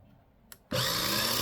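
A Let's Resin 4-in-1 electric sanding and polishing machine switches on after a brief click, then runs with a loud, steady, broadband whirring motor hum that continues to the end.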